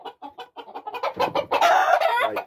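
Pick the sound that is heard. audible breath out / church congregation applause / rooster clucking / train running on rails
rooster clucking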